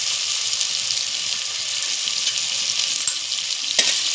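Peas fry in hot oil with turmeric for a carrot rice, giving a steady, close crackling hiss with a couple of light utensil taps toward the end and no voices.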